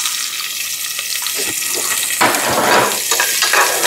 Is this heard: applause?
no